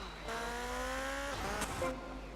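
Motorcycle engine in GTA Vice City, a steady droning, revving tone with rising and shifting pitch, fairly loud and close, with a brief skid-like burst near the end and no talk.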